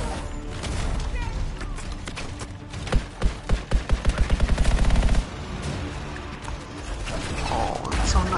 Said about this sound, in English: I'm really liking like the 3 burst marksman rifles.